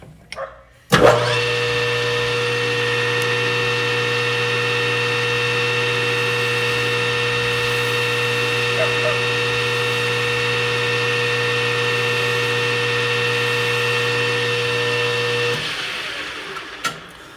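A lathe cutting the rim of a trumpet mouthpiece gives a steady, loud, harmonic whine that begins abruptly, holds evenly for about fourteen seconds, then stops and winds down. There is no talking.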